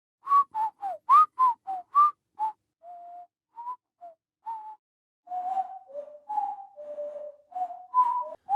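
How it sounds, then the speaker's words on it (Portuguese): A person whistles a wandering melody of short notes, then longer held tones, clear and close with no talking. "Vamos ouvir as mudanças que acontecem no assobio."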